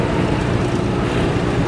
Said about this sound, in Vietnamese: Nó phải nạp cỡ đó để cho mới đạp được cái xà lan đi các bạn, máy yếu cho nên nó phải vậy á.